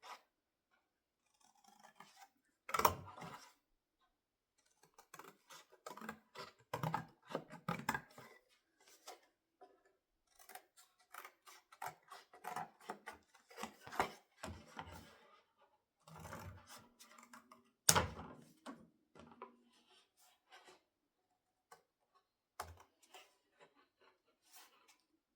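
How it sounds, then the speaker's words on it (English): Irregular crunching snips and rasping cuts of scissors through stiff cardboard, close and fairly quiet, with pauses between bursts. "this is hard to cut this cardboard with these scissors"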